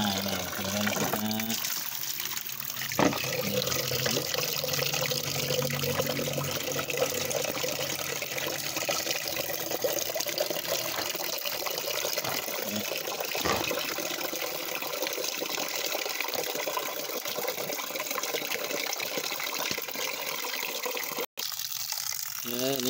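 Steady rush of running tap water rinsing split tiger shrimp over a long stretch, with faint clinks and handling sounds mixed in, close by.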